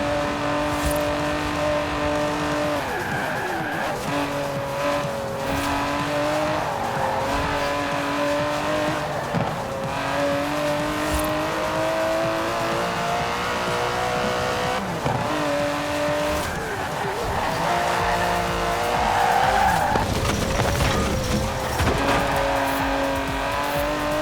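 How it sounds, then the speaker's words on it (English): An Aston Martin DB11 in Forza Horizon 4 roars steadily as its engine revs through gear changes, with tires squealing and skidding near the end, loud and continuous throughout with no voices. "It's an Aston Martin."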